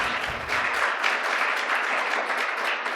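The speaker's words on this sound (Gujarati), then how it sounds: "તો આપણે પહેલાં તો તેમનું ખૂબ ખૂબ તાળીઓથી સ્વાગત કરીશું." A hall audience at a Gujarati exam-preparation motivational seminar claps steadily to welcome the speaker, a dense, even wash of applause lasting the whole stretch.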